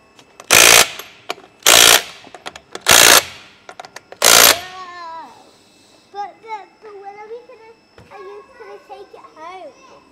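A socket wrench works the wheel nuts of a 1957 Series 1 Land Rover in four loud, broad bursts of rapid mechanical rattling. A child then chatters in short phrases.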